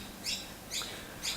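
A small bird gives three short, faint, high chirps, evenly spaced, over quiet background noise with no speech.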